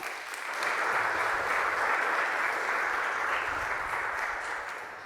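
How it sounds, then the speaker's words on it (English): A conference crowd at a startup event applauds steadily as a guest walks on stage for a fireside chat, an even, sustained wash of clapping that rises quickly, holds for several seconds and then starts to fade. "A round of applause"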